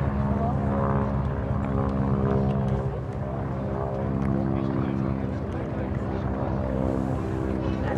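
Propeller airplane flying at the 2012 Vinton County Air Show, a steady droning engine hum held across the whole stretch with a loudspeaker announcer talking over it.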